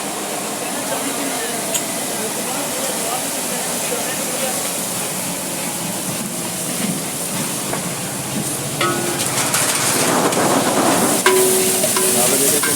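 Masala frying and being stirred in a pot while kofta biryani is prepared, a steady broadband sizzle with scraping stir strokes that grows slightly louder toward the end, heard without talk.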